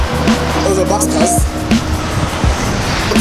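A bus roars past loudly on a street near a polling station on a UK general election day, its broadband engine and road rumble close and sustained for several seconds, with someone talking over it.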